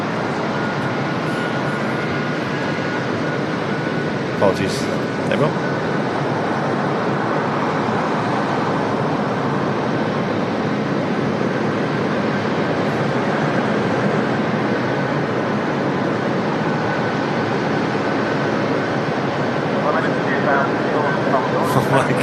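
A Pegasus Airlines Neo jet comes in to land at Manchester Airport, its loud, steady engine roar filling the air throughout, while a person speaks briefly over it.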